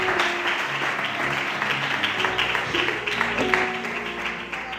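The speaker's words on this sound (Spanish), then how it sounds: "Un fuerte aplauso a este texto de las Sagradas Escrituras" A church congregation applauds during a service, dense continuous clapping mixed with music, loud and steady throughout.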